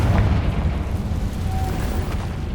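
The Confringo fire spell bursts in Hogwarts Legacy on PS5, a dense loud roaring explosion that rumbles steadily for over two seconds without distinct separate hits.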